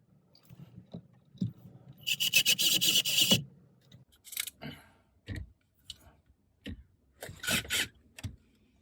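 A screwdriver drives longer screws into the plastic glove box of a 2003 VW Golf MKIV. Close, dry ratcheting and rasping bursts arrive in a few separate runs, broken by isolated clicks and handling knocks.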